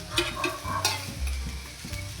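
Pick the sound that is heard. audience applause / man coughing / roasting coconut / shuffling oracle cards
roasting coconut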